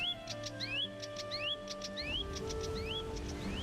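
Repeated rising chirps from a bird in the Valheim video game, bright and fairly near, recurring in quick pairs over steady game ambience and music, with no talking.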